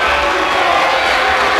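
A basketball crowd at a Wildcats game reacts to an offensive foul call, a loud, sustained roar of voices that holds steady throughout.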